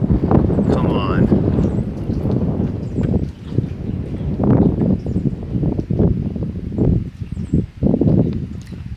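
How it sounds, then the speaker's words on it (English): Steady wind at Lake of the Ozarks buffets the microphone throughout with gusting rumble and rustle, loud and close, with occasional soft sounds underneath. "Whew, windy."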